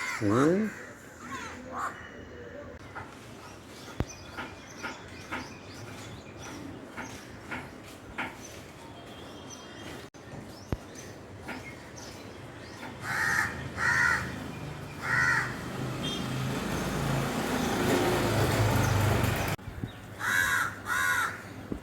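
Crows caw around a nest holding chicks, with repeated harsh calls in short bursts, some close and loud, mixed with fainter outdoor background noise.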